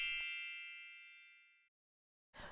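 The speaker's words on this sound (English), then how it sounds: "ringing that notification bell" A single bright notification bell ding strikes once and rings out, fading over about a second and a half before silence, followed by a short burst of noise at the end.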